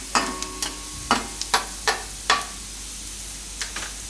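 Cumin and garlic fry quietly in a pan with a faint sizzle, punctuated by a series of sharp spoon taps and stirring scrapes.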